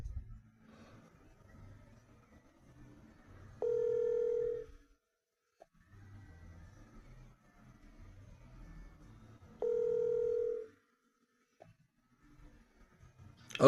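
A telephone ringing, two distinct electronic ring tones spaced several seconds apart, each lasting about a second, over faint background noise.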